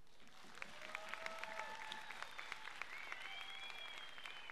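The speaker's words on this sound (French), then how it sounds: "applaudissez quand même, s'il vous plaît" Audience at a 2013 BOTY breakdance showcase clapping steadily, a dense patter of many hands with scattered sharper claps, while faint whistles and cheering rise and fall over it.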